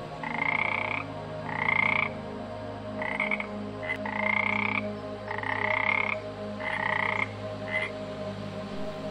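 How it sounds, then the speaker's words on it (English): A frog croaks in a steady series of about eight short, raspy bursts with brief pauses between them, close and clear against a quiet night background. "the frog, for some reason, was still croaking"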